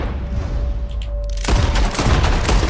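Gunshot in Red Dead Redemption 2, a sudden loud crack halfway through breaking a quiet tonal background, followed by a rumbling burst of sharp noise and a second crack.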